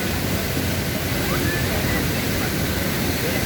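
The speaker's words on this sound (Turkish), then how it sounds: "Yani burası yaz kış hep böyle. İnanılmaz bir su akışı var." Steady, dense rush of falling water from Düden Waterfall in Antalya, loud and continuous throughout with no breaks.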